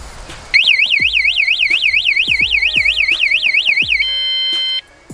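A loud electronic anti-theft alarm on an e-bike blares in a fast rising-and-falling warble for several seconds, switches to a steady tone, then cuts off. Light clicks sound underneath.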